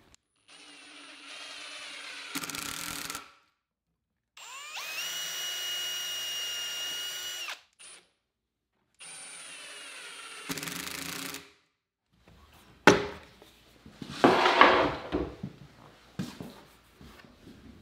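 A power drill bores a 3/32 pilot hole into plywood, then drives a number 8 by 1 3/4 inch cabinet screw, in several separate bursts of steady whirring with pauses between, ending in rougher, louder grinding as the screw seats.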